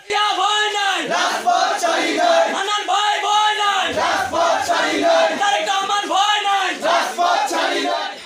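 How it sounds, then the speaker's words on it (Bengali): A student wing procession at a rural market protest rally in Bangladesh chants slogans in loud, rhythmic call-and-response waves from a large crowd, close by and sustained throughout. "উপজেলার টোরা মুন্সিরহাট বাজারে বিকাল ৫টায় ছাত্রদলের একটি মিছিল বের করা হয়েছে"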